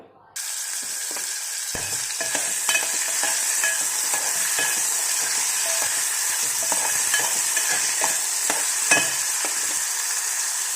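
Onions tipped into hot oil in a pan for a yam curry, sizzling and crackling steadily and close for several seconds with scattered sharp pops, nobody speaking.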